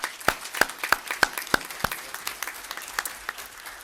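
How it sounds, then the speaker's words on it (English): Sparse applause in a city council meeting room, a handful of distinct claps spaced across a few seconds, fairly close and thinning out toward the end. "Can we give them a round of applause?"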